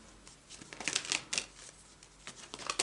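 Tarot cards being shuffled by hand, quiet riffling and sliding bursts that come in short irregular flurries, close and soft with no talk.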